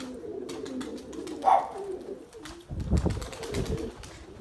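Pigeons coo in low, throaty bursts inside a coop on a windy day, one louder call rising in the middle, over a soft background of shuffling and faint wing sounds.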